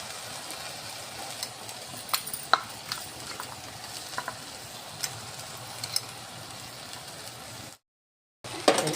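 Ground roasted peanuts being stirred into cooked fenugreek leaves in a pan, giving a continuous low sizzle with occasional spoon clicks and scrapes, close and moderate, briefly cutting out near the end.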